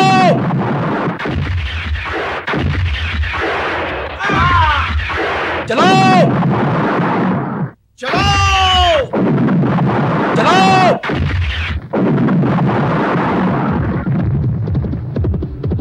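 Cannon fire in a battle scene, repeated heavy booming blasts with rumbling tails, loud and layered under shouting voices, with a brief sharp dropout midway.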